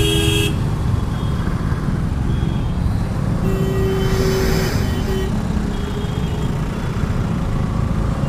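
Street traffic stuck in a police-blocked jam in Dhanbad, India: a constant loud engine and road rumble with several short horn toots and a longer honk scattered through it, no talk.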